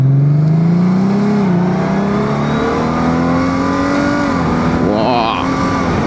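A 2025 Honda Gold Wing GL1800 DCT motorcycle accelerating, its engine note climbing in pitch through a couple of rising sweeps, loud and close against steady wind rush.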